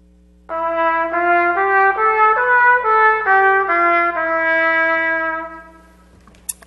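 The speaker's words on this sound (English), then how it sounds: "So you take a typical sounding scale that might sound like this. I'll play it for you." A solo trumpet plays a typical scale in a Jewish art music setting, about ten clear sustained notes stepping up and down in a steady legato line, loud and alone, ending with a faint click.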